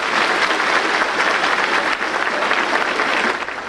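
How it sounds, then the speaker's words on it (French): Sustained audience applause fills an assembly hall at a mission gathering in Haiti, dense and steady from start to finish before easing slightly at the end. "Applaudis le frère de Dieu."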